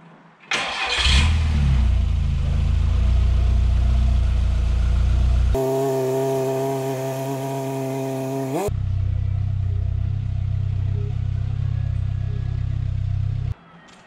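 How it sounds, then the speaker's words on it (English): A 1982 Volkswagen Mark 1 car engine starts and idles nearby with a steady low rumble, a brief tonal whine in the middle and the engine cutting off near the end; no one speaks. "That's my Volkswagen, by the way. I just brought it home after 2 years in storage."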